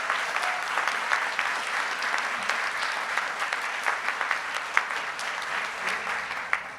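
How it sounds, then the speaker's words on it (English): A room full of people at the College of DuPage Foundation scholarship celebration applauds the foundation's executive director, steady even clapping that carries on throughout with occasional louder claps near the end. "So let's give her a round of applause."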